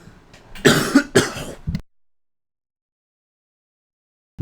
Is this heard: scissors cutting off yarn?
no